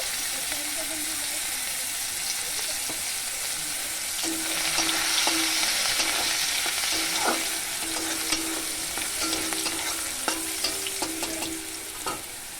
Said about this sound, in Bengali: মাছ ভাজা তেলটা আছে আমার কড়াইতে ওর মধ্যেই আমি থেতো করা রসুনগুলো দিয়ে দেব